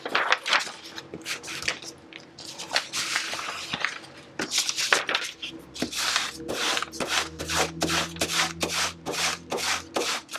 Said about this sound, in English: And you can burnish it down now.